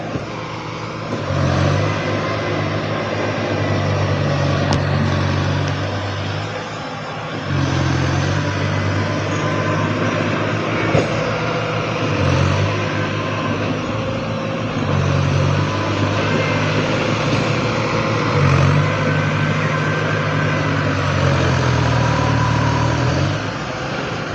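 Trucks hauling soil fill into temple grounds in Thailand, with heavy engines droning and rising in repeated surges over about 24 seconds, loud and fairly close, with no talk.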